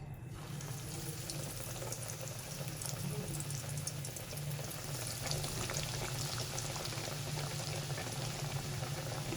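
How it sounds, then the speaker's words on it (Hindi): Box patties coated in bread crumbs fry in hot oil, a dense, even bubbling hiss running the whole time at moderate level with no talking. "ये देखिए ऑयल हमारा हीट हो चुका है, अब हम इनको फ्राई कर लेंगे"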